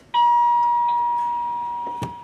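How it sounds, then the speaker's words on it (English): A front door chime rings once, a single clear electronic tone that sustains and slowly decays across the whole moment, with a faint knock near the end. "So I think that's my front door, that door chime."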